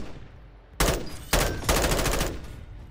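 Gunfire in the video game Plunder: three sharp, loud bursts of automatic fire arrive in quick succession after a quieter lead-in, each burst rattling with rapid repeated shots.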